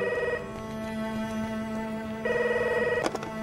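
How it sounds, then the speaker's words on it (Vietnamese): A telephone rings at a pho shop, an electronic trilling ring that repeats in two bursts with a steady tone between, close and clear with no voices. "Có điện thoại nè."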